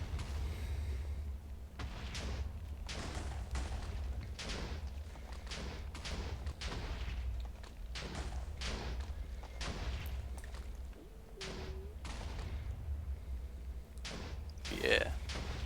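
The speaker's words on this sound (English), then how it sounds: "I do love that this just uses the explosion sound effects." Repeated explosion sound effects from an IC2 nuclear reactor in modded Minecraft, a steady series of loud booming bursts over a low rumble, with people talking throughout.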